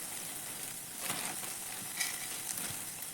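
Chana dal dry-roasting in a pan with a steady soft sizzle and rustle, a spoon stirring through it in a few light scraping bursts, close and alone.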